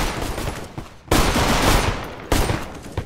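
Automatic AK rifle fire in a competitive Counter-Strike match on the Inferno map, a loud sustained burst that breaks off, then resumes with a second dense volley, close and continuous with no talk.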